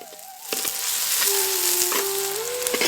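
Large onions, cut into pieces, sizzle loudly in hot oil for fish biryani, a constant crackling hiss punctuated by a few scraping stirs, with no talking.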